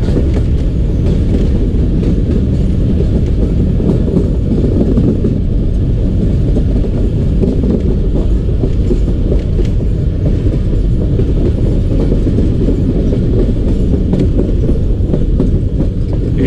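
Jaffar Express passenger train rolling through the Bolan Pass between Sibi and Quetta in Balochistan, a steady loud rumble with rhythmic wheel clatter continuing throughout, heard from on board.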